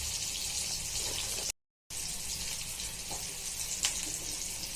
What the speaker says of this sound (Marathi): आणि छान फ्राय करून घेऊया